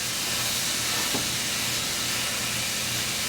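A ribeye steak sears on a Blackstone griddle, giving a continuous loud, even sizzling hiss from close up with no voices.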